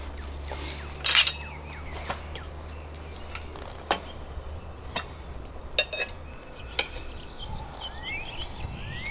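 A metal tire spoon levering a motorcycle tire fitted with a Nuetech Nitro Mousse insert on a Rabaconda tire changer gives sparse, close metallic clinks and scrapes spaced over several seconds, with faint bird chirps in the background.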